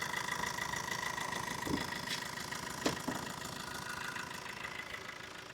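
A 2016 Tata Zest with its Quadrajet diesel engine idling, a steady low mechanical hum with faint knocking, heard fairly quietly with a couple of brief knocks or clicks.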